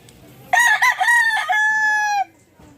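A single loud, close rooster crow, rising and then holding a long drawn-out note before cutting off.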